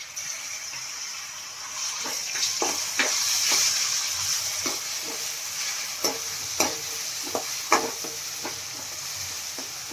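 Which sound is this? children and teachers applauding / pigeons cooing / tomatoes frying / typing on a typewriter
tomatoes frying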